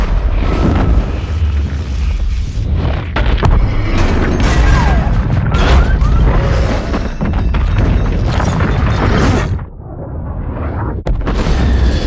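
A huge film explosion over San Francisco in a nuclear-war scene, a loud sustained roaring blast with rumbling booms and debris crashes, continuous and dense, dipping briefly near the end before surging again.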